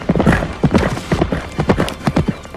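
Horse hooves clip-clop in quick, steady beats with a brief whinny, loud and close in a scene from the historical epic film Kingdom of Heaven, with faint voices underneath.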